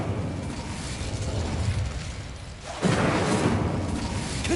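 Casting the Incendio fire spell in Hogwarts Legacy, a continuous roaring whoosh of flame that dips briefly and then surges louder in a fresh burst.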